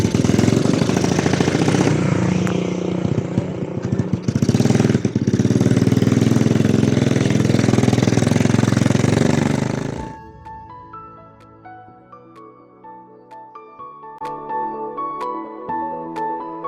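Motorcycle engine while riding, a loud, steady broadband roar under wind for about ten seconds, then cutting off abruptly to quieter background with music-like tones.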